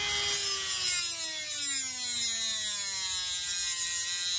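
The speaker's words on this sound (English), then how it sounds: "All right, so I cut the bolt, see?" A blade saws through a bolt on the alternator of a 2014-2015 Mitsubishi Mirage, a close, continuous grinding rasp with a gliding whine that slowly drops in pitch, without any talk.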